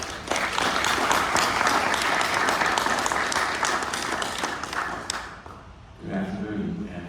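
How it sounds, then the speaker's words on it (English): Audience at a lecture-recital applauding with dense, loud clapping that holds steady for about five seconds, then fades as a voice begins speaking. "But give them a warm round of applause"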